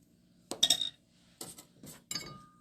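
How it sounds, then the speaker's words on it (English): A spoon clinks against a dish while nutmeg and other spices are stirred together for a pumpkin and butternut squash bake. There are three or four short bright metallic taps, fairly close and without talk. "So I'll just mix this up a little bit."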